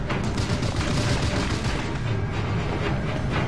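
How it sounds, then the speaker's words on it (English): Fireworks launchers fire in the video game BioShock Infinite, a dense, continuous barrage of crackling bursts and booms that stays loud and steady from start to finish. "Oh, cool. Fireworks launchers."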